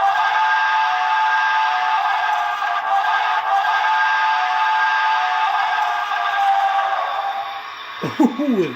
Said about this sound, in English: And the alternate whistle.